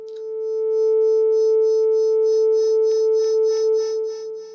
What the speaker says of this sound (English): You can hear the rate increasing.